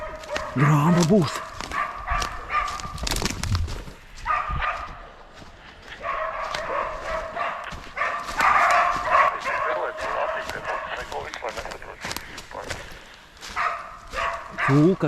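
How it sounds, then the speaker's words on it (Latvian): Hunting dogs bay and yelp in repeated bursts while chasing a wild boar through woodland, close and loud, mixed with excited human talk throughout. "Suņi dzēn kuili."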